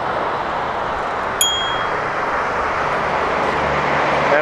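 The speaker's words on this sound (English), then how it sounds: "I'm gonna ring my bell because there's a visibility gap there for me." Single bright ding of a bicycle bell rung by a cyclist at a blind corner, one short strike over steady traffic and wind noise.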